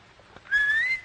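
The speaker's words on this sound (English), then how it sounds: "Go ahead, Bobby. Whistle if you want." A single person whistles one sustained rising note of about half a second, clear and close, following a brief faint shuffle.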